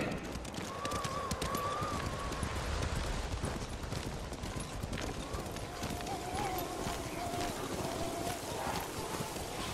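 Horses gallop through snowy weather in the video game Ghost of Tsushima, with steady, rapid hoof clip-clops running throughout, an occasional whinny, and characters speaking over the riding.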